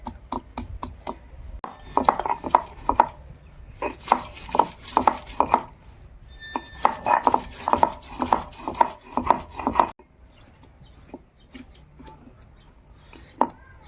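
Large garlic cloves are smashed by hand in a rural kitchen: a steady run of sharp, close knocks and thuds in quick rhythmic bursts, pausing briefly, then a few scattered softer taps at the end.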